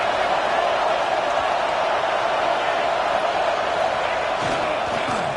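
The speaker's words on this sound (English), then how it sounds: "this crowd trying to help keep them there." A dense, steady roar from a stadium crowd at a match, with the home team pinned deep in its own end during a penalty, continuous and loud with no distinct breaks.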